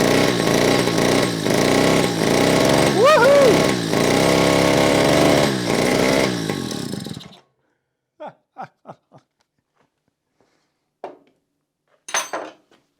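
A small single-cylinder Diesella diesel engine runs with a loud, steady knocking chug for about seven seconds, then cuts out abruptly; a voice cheers and a few faint clicks and handling sounds follow in the quiet afterward.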